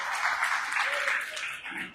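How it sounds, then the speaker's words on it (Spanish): A church congregation applauds during a worship service, a short burst of clapping under a steady hum of voices and praise that fades slightly toward the end. "Pueden tomar asiento y dar un aplauso al rey, por favor"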